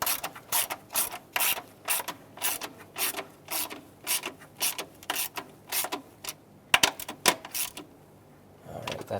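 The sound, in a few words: ratchet tightening sensor screws into plastic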